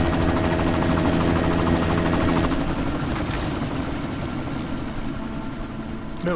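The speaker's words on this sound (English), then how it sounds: "You've got to stop that chopper." Helicopter in the video game Deus Ex: Mankind Divided, a loud steady rotor thrum with engine whine filling the whole stretch, slightly easing after the first couple of seconds, with no talk over it.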